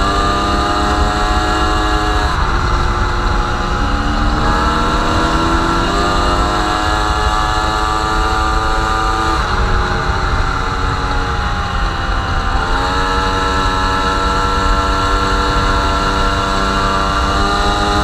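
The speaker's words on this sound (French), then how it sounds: "C'est pas mortel hein, comme bruit de moteur" An MBK 51 moped engine runs loud and close, a buzzing two-stroke drone with its pitch repeatedly rising and falling as the throttle is blipped, with no voices.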